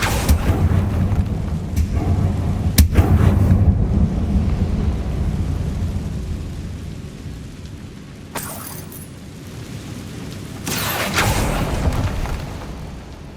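Loud booming blasts and rumbling crashes from the Confringo fire spell in Hogwarts Legacy on PS5, a heavy rolling low-end roar with sharp bursts near the start, around eight seconds and again near eleven seconds.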